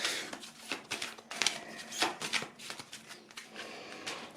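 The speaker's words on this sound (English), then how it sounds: "Then you have this very long cards here, which we'll shuffle up as well." Playing cards riffled and shuffled in quick bursts, a crisp papery flutter repeating several times, close up with no talking.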